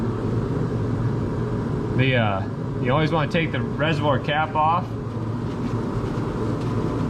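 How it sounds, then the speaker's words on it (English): A torpedo heater roars steadily nearby as brakes are bled, a constant broad rumble under a voice talking close to the mic. "I hope you can hear me with that torpedo heater going"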